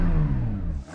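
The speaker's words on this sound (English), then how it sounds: "Go on, Jan, rev up your engine." A Porsche 911 GT3 engine revs briefly and close by, a rising mid-pitched engine note that holds for under a second before dropping off.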